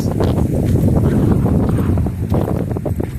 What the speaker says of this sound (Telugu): మస్తు గాలి